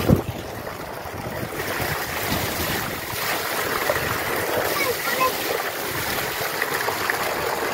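Irrigation water flowing into a rice nursery field on a farm, a steady broadband rushing and splashing that stays continuous and fairly loud, with voices mixed in beneath it.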